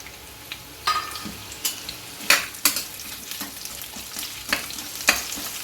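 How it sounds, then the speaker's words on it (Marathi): Sliced onions sizzle in a spoonful of hot oil in a pan, with a steady soft frying hiss broken by repeated scraping and clinking strokes of a stirring spoon. "1 चमचा तेल घातल्यानंतर हा जो आपण उभा चिरलेला कांदा होता, हे ते 3 कांदे जे होते ते आपण ह्याच्यात घालून घ्यायचे"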